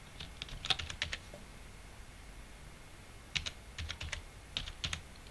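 Bursts of quick, close computer keyboard typing while entering a task in Microsoft Project, two clusters of crisp keystrokes separated by a pause, with no talking.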